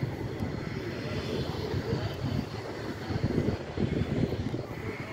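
Propeller-driven airplanes at an air show in Karup pass overhead with a steady, rumbling engine drone at moderate distance that swells and fades slightly, with faint crowd murmur underneath.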